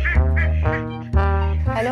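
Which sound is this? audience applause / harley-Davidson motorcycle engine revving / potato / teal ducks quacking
teal ducks quacking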